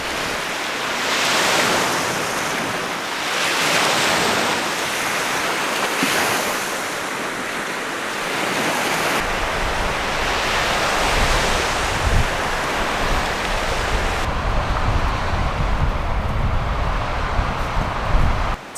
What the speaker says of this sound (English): Even the wind's starting to die down.